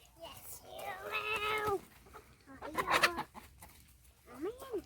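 Chicken clucking and squawking while a girl tries to catch it outdoors, a few agitated calls in short bursts near the mic, with faint background noise between them.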